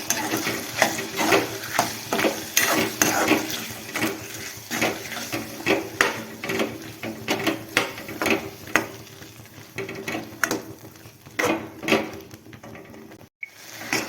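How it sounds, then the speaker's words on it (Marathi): Masala paste sizzles in a pan of potatoes while a spoon scrapes and stirs in quick, irregular strokes, fairly close and steady throughout, with no voices. "मसाला हा चांगला परतून घ्यायचा"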